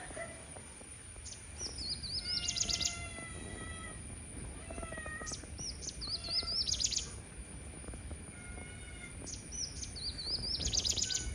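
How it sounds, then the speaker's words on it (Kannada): A small bird calls in a garden during rain. Three bursts of high, sharp, falling chirps come a few seconds apart, clear above a low background hiss. "ಚಿಕ್ಕ ಹಕ್ಕಿ ಇದು,"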